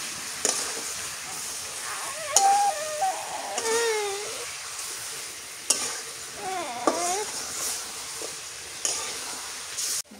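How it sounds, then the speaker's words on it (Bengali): Broiler chicken meat sizzles and is stirred in a pan, with repeated scraping strokes over a steady frying hiss, while a baby cries intermittently nearby. "ব্রয়লারের গোস্ত কষে নিলাম"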